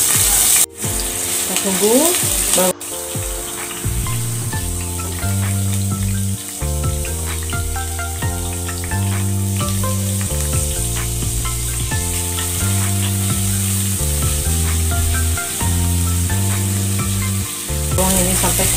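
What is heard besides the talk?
sautéing shallots and garlic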